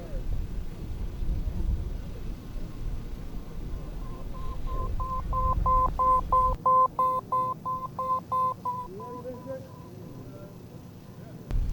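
A beeping ball in a beep baseball championship game passes a field microphone, giving a steady string of regular electronic beeps that swell and fade as it goes by, under crowd noise and an announcer's talk.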